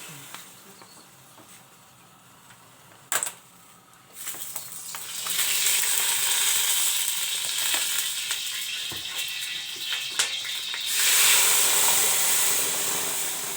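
A small splash of oil hisses and sizzles steadily in a frying pan during home cooking, rising after a few seconds of quieter kitchen clatter and holding as a close, continuous crackle with a brief knock along the way.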